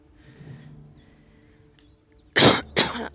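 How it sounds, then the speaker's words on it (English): Two sharp, loud coughs in quick succession come after a few seconds of quiet room sound with faint background noise. "I am just coughing up a storm this morning."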